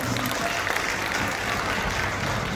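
Loud, continuous audience clapping at a political rally in Bihar, a dense crowd-wide roar of applause with faint voices mixed in.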